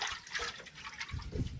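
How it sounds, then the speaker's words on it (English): Water is poured into a saucepan beside an outdoor cooking fire in an African village, a soft, short splashing trickle heard faintly. "So I'm going to put some water."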